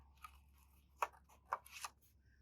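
Small scissors snipping paper for a collage, a few sparse, crisp cuts spaced irregularly, close up but quiet, with no voices.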